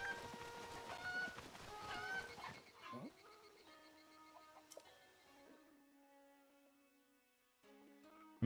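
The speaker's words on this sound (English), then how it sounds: "I'm getting the rooster" A Cucco rooster in The Legend of Zelda: Breath of the Wild clucks and squawks in short bursts, with busy electronic game sounds and music at first, then quieter chiming tones.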